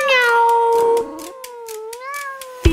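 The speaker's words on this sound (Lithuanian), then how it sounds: "Miau, miau." A voice sings a kitten's meow in a Lithuanian children's Halloween song: two drawn-out, tuneful miaus, steady and close, ending with a short thump.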